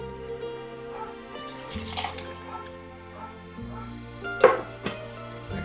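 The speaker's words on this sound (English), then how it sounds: "Go ahead and dump your tomatoes in there. We did not drain these tomatoes" Undrained canned tomatoes slosh and splash into a large pan in a few wet bursts, the loudest near the end, over a steady tonal hum in the background.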